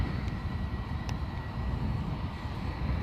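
Embraer Legacy 650 business jet at Edinburgh airport, a steady low engine rumble holding evenly for the whole stretch, moderately loud, with no voices over it.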